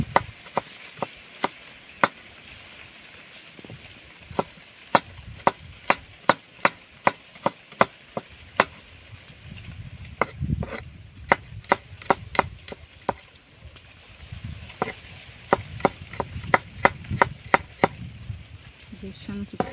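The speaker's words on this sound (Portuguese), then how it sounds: "E vamos lá picar ela todinha" Sharp knife strikes chop a curimatã fish against a cutting board in quick bursts, pausing between runs, close and crisp over faint background noise.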